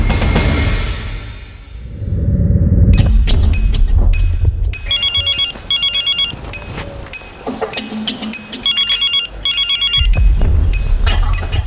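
A phone ringtone plays loud and close during an outgoing call, starting after a low rumble and repeating in bursts of bright chiming tones with short gaps between rings.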